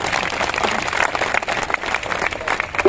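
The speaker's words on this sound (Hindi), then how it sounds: "लिए भी जोरदार तालियां हो जाए।" Enthusiastic applause from a crowd, dense steady clapping filling the whole stretch.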